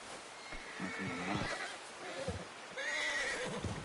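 A horse in Red Dead Redemption 2 gives a couple of whinnies with faint hoof clops, fairly close, over a quiet outdoor game soundscape with no talk.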